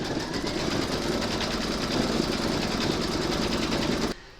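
An embroidery machine stitches a monogram in silver thread on a zipper-top glasses case in the hoop, a fast, steady, close mechanical chatter that runs without a break and cuts off just before the end.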